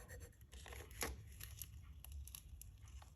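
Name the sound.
transfer tape being peeled off a glass can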